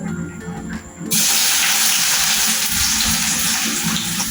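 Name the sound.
pouring onions into hot oil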